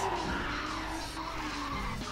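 A car spinning donuts in the racing video game Ridge Racer 6, tires squealing and skidding continuously over a steady engine drone, loud and close.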